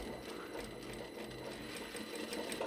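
A sewing machine topstitches a tulip sleeve seam in black thread, a close, steady, fast mechanical whir and rattle of needle strokes running for a few seconds with no talk.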